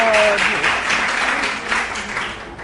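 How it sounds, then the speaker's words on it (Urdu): A studio audience claps steadily in a live Pakistani TV talk show, with the applause loud and dense at first and then gradually fading. "تالیاں بجا لے پہلے"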